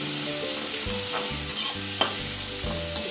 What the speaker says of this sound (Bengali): এইবার এটা ভাজা হচ্ছে,